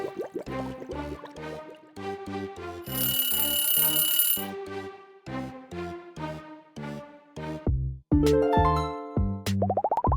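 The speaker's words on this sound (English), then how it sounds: "Choose your alarm clock." Assorted alarm clock ringtones play one after another: chiming melodic beeps and tones, a burst of bright ringing in the middle and plunking drip-like notes near the end, loud and close with no talk.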